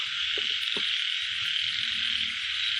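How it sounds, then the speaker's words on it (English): A frog croaks at night in low, repeated pulses beneath a loud, constant high buzz of insects and crickets. "And this one is frog. Frog."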